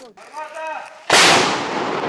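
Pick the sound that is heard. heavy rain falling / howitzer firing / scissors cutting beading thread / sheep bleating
howitzer firing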